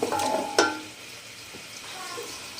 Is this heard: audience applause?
no